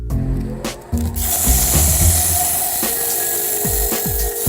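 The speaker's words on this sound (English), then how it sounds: "I'm going to turn on the overhead fan" A steady mechanical whir of an overhead fan in a woodshop starts abruptly and runs continuously, a broad motor hum with some knocks and scraping noises of sanding a wooden bowl over it.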